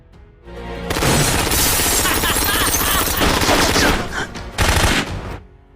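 Dense, sustained gunfire from a gangster shootout in a revenge film: rapid automatic bursts and overlapping shots, loud and close, running continuously for several seconds with a brief lull before a final heavy volley.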